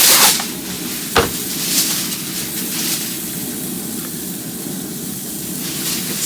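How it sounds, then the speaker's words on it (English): Smoked pulled-pork meat being wrapped tightly in aluminum foil beside a Green Mountain Grills Davy Crockett smoker: steady close crinkling and rustling throughout, with one sharper crackle partway in and no talking. "I'm going to wrap the meat in foil for the last bit of cooking time"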